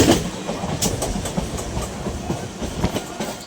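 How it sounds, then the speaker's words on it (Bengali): A passenger train pulling into Beldanga station in West Bengal, India, with steady rolling rumble and repeated clickety-clack of wheels over rail joints, close and continuous throughout. "ট্রেন এখন বেলডাঙা পৌঁছে গেল"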